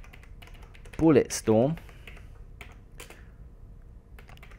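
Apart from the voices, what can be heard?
typing on a computer keyboard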